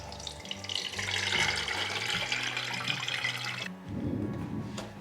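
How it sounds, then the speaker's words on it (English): Au jus from smoked Walmart Select brisket pours from a foil pan into a grease separator, a close, continuous splashing stream lasting several seconds before stopping abruptly, leaving a brief softer trickle and clatter. "Now we're going to take this grease separator, take all of this au jus that I was talking about that is in this foil pan"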